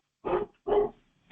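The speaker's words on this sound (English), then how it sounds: "that's my dog" A pet dog gives two sharp, loud barks close by, spaced about half a second apart, with a third just starting; a brief word of speech is heard.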